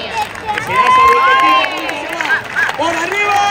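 Spectators clap along at a bull-cutting contest in Dueñas, a loud crowd roar with rhythmic clapping under an excited announcer's voice shouting over the arena.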